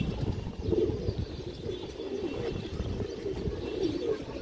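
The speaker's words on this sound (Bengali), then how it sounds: "খুবই চঞ্চল কবুতরটা দর্শক।" A pigeon coos in low, repeated murmuring bursts close by, with faint soft rustling and other birds around, no talk over it.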